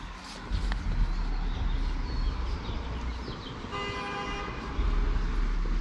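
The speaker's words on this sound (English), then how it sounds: "The fuck you honking at?" A car horn toots amid busy road traffic, with a run of sustained honks rising above the steady rumble of passing vehicles near the middle of the clip, and no talking.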